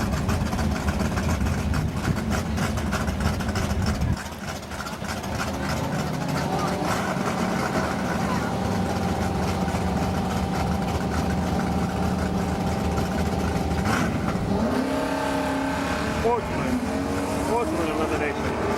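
Drag racing at a sportsman elimination as a 1974 Chevy Nova races a Camaro: loud rumbling race engines roar and rev continuously, pitch rising near the end, with crowd or announcer voices mixed underneath.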